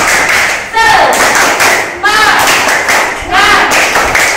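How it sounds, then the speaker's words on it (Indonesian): A classroom of pupils claps a rhythmic group cheer in loud, patterned bursts, with young voices shouting along in time at each phrase, close and energetic. "kita tepuk semangat dulu"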